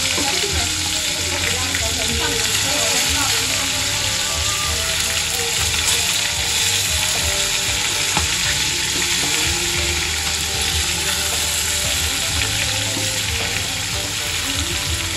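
Brinjals fry in a hot pan with a loud, dense sizzle that holds steady throughout, set against a constant mechanical hum and whir close by, with no talking.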